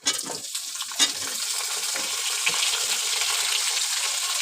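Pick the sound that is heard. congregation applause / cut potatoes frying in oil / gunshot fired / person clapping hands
cut potatoes frying in oil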